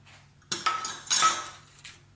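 A utensil beats an egg with buttermilk in a bowl while making scones, giving several quick clinking and scraping strokes against the bowl over a quiet background.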